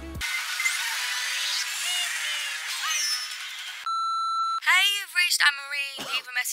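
Answering machine beep: a single steady electronic tone lasting under a second, loud and clear, set between busy noisy sound before it and chirpy warbling sounds after it.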